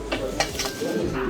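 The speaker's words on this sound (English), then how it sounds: "I'll stir this here." Metallic epoxy for a floor coating is stirred in a container, producing brief close-up swishing and scraping strokes in quick succession.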